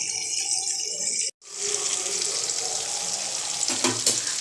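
Egg curry masala ingredients sautéing in oil for a roasted-spice egg gravy, giving a steady bright sizzle and hiss with a short gap partway, then continuing loud and close with faint stirring scrapes.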